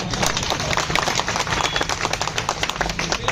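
Audience clapping, a loose and fairly thin patter of hands that carries on steadily throughout, mixed with room noise.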